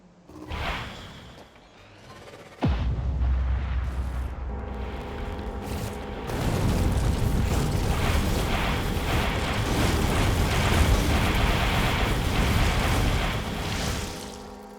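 Artillery fire and explosions in the video game Factorio: a sudden heavy boom, then a lull, then a dense, sustained roaring rumble of blasts that swells and fades at the end.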